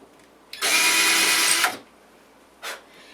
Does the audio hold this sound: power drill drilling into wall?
yes